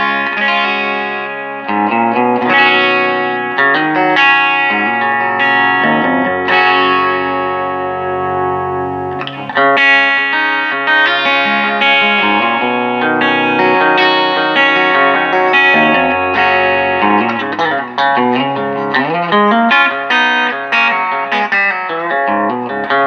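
Electric guitar played through a Quilter SuperBlock US amplifier, a loud punchy tone with effects and light distortion, sustained chords and melodic runs for over twenty seconds without talking.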